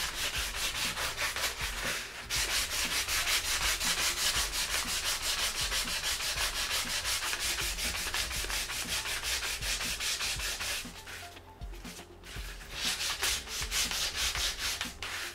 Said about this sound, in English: what we're going to do is we're just going to start sanding down the edges